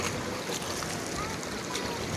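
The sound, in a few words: sea waves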